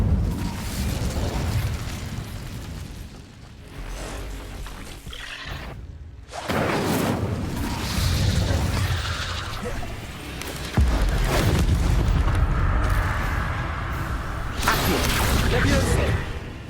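An Incendio fire spell cast in the video game Hogwarts Legacy, part of a loud, dense stretch of fiery bursts, booms and whooshes that rise and fall, with voices heard among the effects.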